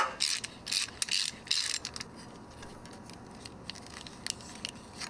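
A socket ratchet works a bolt loose on a Toyota 4.5L inline-six engine during a teardown, giving bursts of rapid close clicking separated by quieter pauses and a few scattered metallic taps.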